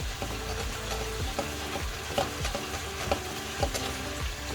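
Turmeric and chilli powder stirred into hot mustard oil for a fish curry, a quiet sizzle with soft, rhythmic scrapes of a spoon against the pan repeating every second or so.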